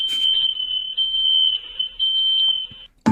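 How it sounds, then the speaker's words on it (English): A smoke alarm sounds a loud, continuous high-pitched electronic tone for nearly three seconds, with brief dips, then cuts off abruptly, set off as something nearby burst into flames from lithium batteries. "Oh shit, the smoke alarm."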